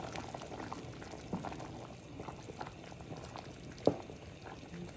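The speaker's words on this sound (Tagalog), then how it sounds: "Kumulo ng kumulo" Ginisang patola, sponge gourd sautéed with shrimp, bubbles in a pot with a steady low simmering burble, close and fairly quiet, with one brief louder pop.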